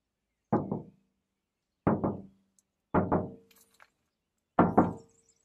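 Four hollow knocks on a bare, uninsulated metal Mercedes Sprinter van door, spaced roughly a second apart, close and isolated with silence between them.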